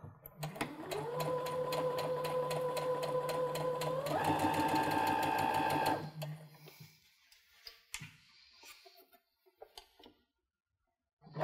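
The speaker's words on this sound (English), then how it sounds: "I'm going to stitch very slowly over those pins." Sewing machine stitching slowly over pins, a steady rapid mechanical whir and ticking that rises in pitch, runs for about six seconds, then stops, followed by a few faint clicks and handling sounds.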